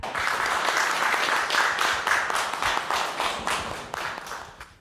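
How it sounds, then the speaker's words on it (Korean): An audience at a lecture on the Korean New Deal and Gwangju's policy applauds to welcome a speaker, a full round of many hands that holds steady and then tapers off near the end. "큰 박수로 환영해 주시기 바랍니다"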